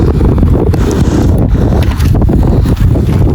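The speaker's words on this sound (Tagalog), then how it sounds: "sama ng panahon, lakas ng hangin" Strong wind roars and buffets directly against the microphone during crabbing in bad weather, a loud continuous rumble with gusty rustling throughout.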